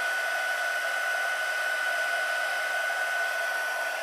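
A hair dryer blows steadily onto a gel press print, one close, continuous, even whoosh with an unchanging level and no other sounds.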